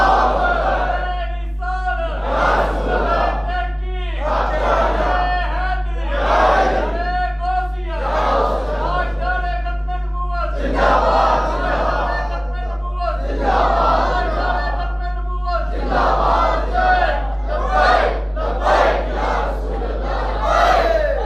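A large crowd at a Friday sermon chants religious slogans in loud, rhythmic bursts of massed voices, rising and falling in repeated surges over a low steady hum.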